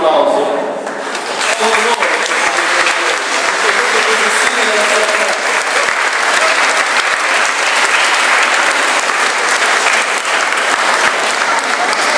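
Crowd applause at an outdoor religious procession carrying a sacred relic, loud dense clapping sustained for about twelve seconds with a brief spoken phrase near the start.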